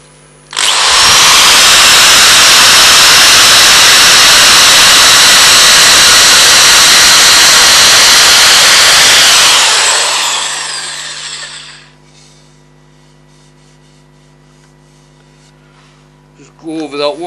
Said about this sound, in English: I'm just going to give this a quick sand with 600